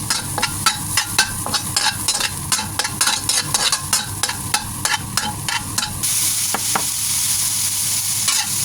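Garlic sautéing in a pan for shrimp and broccoli udon sizzles loudly and continuously, with rapid rhythmic spatula scrapes and clacks that stop partway, leaving the sizzle alone.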